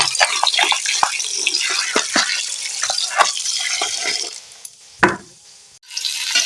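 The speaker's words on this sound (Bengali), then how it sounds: "মাংসটাকে ভালো করে ধুয়ে নেব" Raw chicken meat being washed under running water: a continuous splashing gush with handling sounds and drips, easing briefly near the end before the flow resumes.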